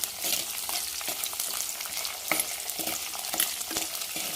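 Large pieces of bitter gourd fry in a pan, a soft, even crackling sizzle with scattered spattering pops and light stirring taps.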